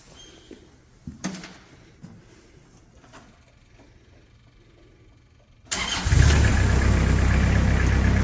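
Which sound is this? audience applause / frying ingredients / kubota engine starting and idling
kubota engine starting and idling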